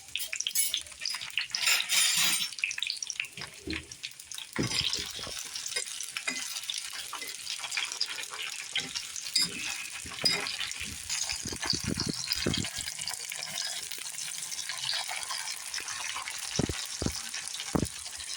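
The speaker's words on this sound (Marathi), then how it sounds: "तेल गरम झालं आहे, त्याच्यामध्ये मिरची टाकून घेऊया" Green chilies frying in hot oil for a Maharashtrian thecha, with a continuous close sizzle and occasional clinks and scrapes from stirring, and no talk.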